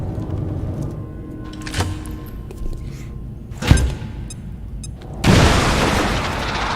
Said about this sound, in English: But we're going to start this off with a grenade.